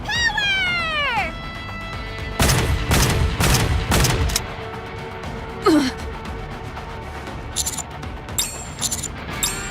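Gunfire in the game Nikke: Goddess of Victory: several sharp bursts of rapid shots crackle in quick succession near the middle, mixed with expressive voices and a sliding vocal sound before and after.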